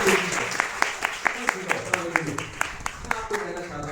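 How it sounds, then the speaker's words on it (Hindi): Church congregation clapping during a Sunday service, a rhythmic run of sharp claps at a steady beat, fairly close and loud, with a diffuse murmur of voices underneath. "ताली बजाना चाहते हैं?"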